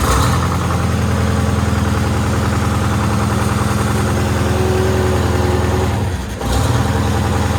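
A Detroit Diesel engine, just started after sitting a few months, runs close by with a steady, heavy low rumble for the whole stretch and one brief dip near the end.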